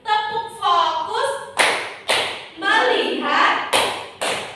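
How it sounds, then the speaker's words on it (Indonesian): Children in a classroom perform a rhythmic tepuk fokus clapping routine, with sharp group claps in a steady pattern alternating with chanted voices. "Kita tepuk fokus terlebih dahulu anak-anak biar lebih semangat untuk belajar hari ini"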